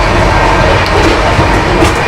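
Inside a Mumbai to Udaipur passenger train, the carriage gives off a steady, close rattling rumble on the rails that runs without a break and stays loud throughout, with no voices.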